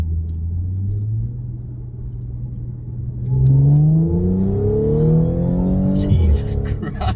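Audi S5 with a Stage 1 tune pulling hard in second gear, engine note climbing steadily as revs rise, loud and close from inside the cabin, swelling sharply midway before an upshift near the end.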